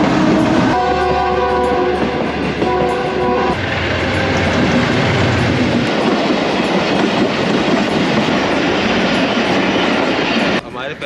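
The Iqbal Express passenger train passes close and loud in Pakistan, its horn blaring in two long blasts over heavy rolling wheel clatter that continues steadily, with faint voices in the background.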